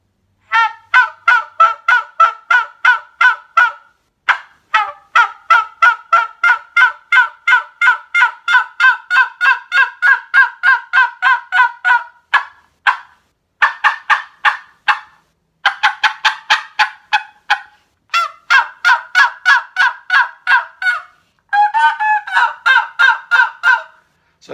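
Rapid, rhythmic turkey yelps and gobbling runs from a hand-worked tube call imitating hen and gobbler, repeated in quick bursts with short pauses, loud and close.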